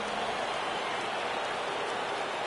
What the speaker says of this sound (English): Now from a rainy Coors Field.